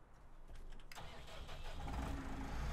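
A New Holland tractor engine starts up in Farming Simulator 19: a brief cranking hiss, then a sudden catch near one second, and a low diesel rumble building steadily and filling the low end, close and without voices.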